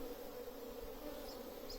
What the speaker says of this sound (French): on a posé les abeilles sur le bas du linge